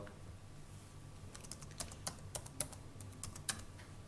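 Quick, light clicks of keys on a computer keyboard as a username and password are typed, irregular taps starting after a quiet moment and continuing in short bursts, close and fairly soft.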